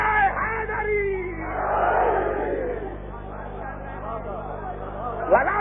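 Large religious gathering raising the Naara-e-Haidari slogan, a swelling, roaring crowd shout that rises and fades over a steady hum, with a loud voice leading near the start.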